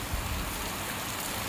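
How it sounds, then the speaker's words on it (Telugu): Steady rain pouring during a thunderstorm in Bangalore, a dense even hiss of falling water heard faintly and without pause over this brief moment. "గత గంట సేపు నుంచి ఎడతెరగా వర్షం పడుతూనే ఉంది"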